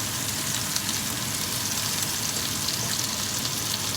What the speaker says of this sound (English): Move the steak around so it doesn't stick to the pan. And just let that sit there and cook for a bit.